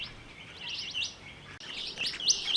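Mulga parrots call in a quick series of high, thin chirps and whistles, fairly faint, set against a quiet outdoor background in southern mainland Australia.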